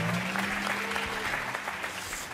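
Studio audience on a French midday game show clapping together, a short dense burst of applause that fades slightly toward the end, with faint voices underneath.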